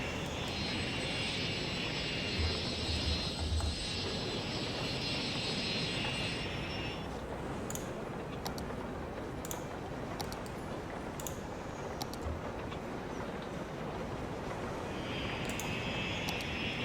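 Airplanes in the city-building game Cities: Skylines: a steady, broad engine roar drones throughout at moderate distance, with faint high whines and clicks over it and no talk.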